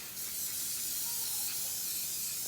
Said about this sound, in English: So I just spray that with a bit of canola oil.